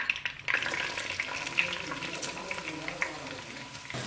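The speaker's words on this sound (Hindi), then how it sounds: "अलहदा पैन में मैंने 1/2 कप ऑयल लिया। अब उसमें मैं अपने अनियंस डालूंगी।" Onions frying in half a cup of oil in a separate pan, giving a steady, soft sizzle with light crackling and occasional stirring clatter throughout.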